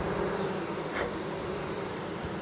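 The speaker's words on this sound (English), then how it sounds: "because they are buzzing. It's such an incredible sound." Honey bees hum densely inside a hive during an inspection, a close, steady, even buzz with no voices.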